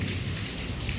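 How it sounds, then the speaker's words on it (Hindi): Steady rain falls over a rural courtyard where livestock are kept, a dense continuous patter of drops on surfaces filling the short stretch with no voices. "आज फिर बारिश हो रही है बहुत अच्छी।"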